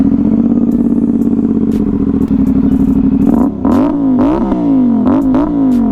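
A CFMOTO 450SS 450cc motorcycle idles loud and close with a thumping beat, then is revved several times in quick, rising blips that fall back between each throttle push.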